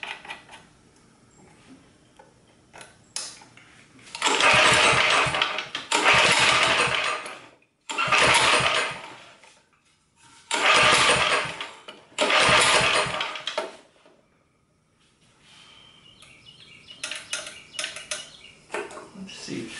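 A 1970s Sears generator engine is cranked and catches in several loud, sputtering bursts of a few seconds each, separated by pauses, before quieter rattling work sounds follow.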